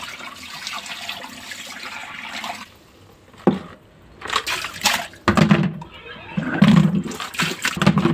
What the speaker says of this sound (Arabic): هرجع احط عليه الميه هنا كده في المصفى